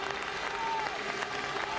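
Grandstand crowd at the Spanish Grand Prix applauding, a dense, steady wash of clapping with a faint voice and tonal whine layered beneath it.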